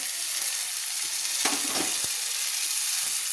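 A fish curry with cauliflower is stirred in a pan after ginger paste and cumin paste go in: a steady oily sizzle runs throughout, with a brief burst of scraping stirs in the middle.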